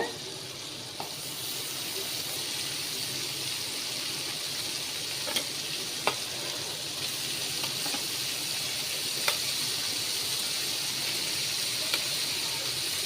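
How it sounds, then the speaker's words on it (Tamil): Butter-fried paneer cubes sizzle steadily in a pan with a soft, constant crackle, punctuated by a few faint clinks and scrapes of a utensil; no talking. "பட்டர் நல்லா மெல்ட் ஆன உடனே இப்போ நம்ம கட் பண்ணி வச்சோம்ல பன்னீர் க்யூப் இதை ஆட் பண்ணிக்கோங்க"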